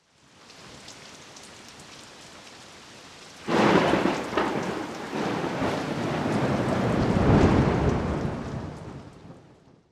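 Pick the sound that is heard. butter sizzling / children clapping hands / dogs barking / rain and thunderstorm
rain and thunderstorm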